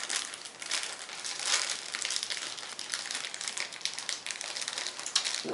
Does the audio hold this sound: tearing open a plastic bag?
yes